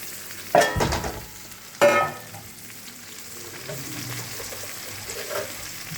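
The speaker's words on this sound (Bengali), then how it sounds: "আর এর আগেই যে চিংড়ি মাছ ভেজে রেখেছিলাম সেগুলো ছেড়ে দিচ্ছি" Fried prawns dusted with chili powder hit a frying pan: two sharp clattering splashes as they go in, followed by a soft, steady sizzle in the background.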